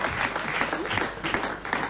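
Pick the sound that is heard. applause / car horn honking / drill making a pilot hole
applause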